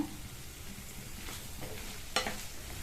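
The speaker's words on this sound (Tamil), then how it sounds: "இப்ப இந்த பீன்ஸை நல்லா மசாலாவோட சேர்த்து 2 நிமிஷத்துக்கு இந்த மாதிரி வதக்கி கொடுத்துக்கலாம்." Chopped beans are sautéed with masala in a pan for a Tamil-style side dish, giving a soft steady sizzle, with a few scraping stirs of a spoon close by and no talking.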